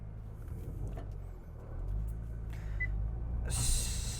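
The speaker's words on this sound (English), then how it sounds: "You can tell that this engine, though being a nice silky 6-cylinder, still has some serious power behind it" A Nissan GT-R R35's six-cylinder engine runs at a steady, moderate level, its low rumble swelling slightly midway before a hiss of brighter noise enters near the end.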